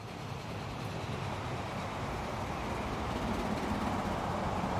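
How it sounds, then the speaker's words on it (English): A freight train in the Transport Fever video game rumbles past as a steady, faint, low broadband roar with a rolling wagon texture that holds evenly for several seconds. "And another freight train."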